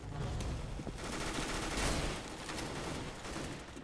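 FAMAS rifle in CS:GO firing in burst mode, rapid clustered shots repeating loudly through the short stretch, with no voices.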